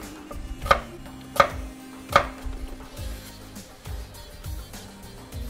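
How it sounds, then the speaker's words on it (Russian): A knife chopping garlic into large pieces on a cutting board: three sharp, evenly spaced thuds, then softer, quicker cuts and scraping, close and fairly loud, no talk. "ну а чеснок нарезать довольно крупными кусками."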